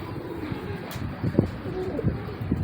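Pigeons coo in repeated low throaty bursts, fairly close, with a steady murmur of background noise throughout and no clear talk.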